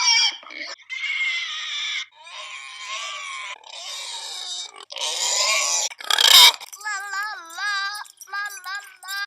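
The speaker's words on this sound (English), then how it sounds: "Pigs make over 20 noises." Pigs grunting and squealing in a series of loud, close, separate bursts, some nasal grunts and some higher squeals with wavering tones, each call followed by a brief pause.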